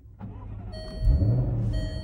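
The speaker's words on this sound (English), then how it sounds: "You might be able to hear the exhaust." Jaguar F-Type S supercharged sports car starting: a brief starter whir, then the engine catches with a low exhaust rumble that swells and settles into a steady idle, heard close up.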